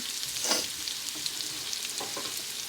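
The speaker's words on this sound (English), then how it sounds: "So I'm just gonna add my onion." One medium onion hisses and sizzles in a hot pot during a spicy venison roast recipe, a steady close frying sound with a few stirring scrapes, no voices.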